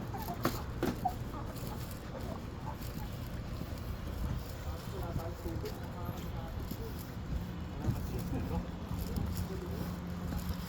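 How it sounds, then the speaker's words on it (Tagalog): Chickens cluck and a rooster calls amid a busy outdoor scene, with people talking nearby and scattered background noise. "Ayun oh, may chicken na manok."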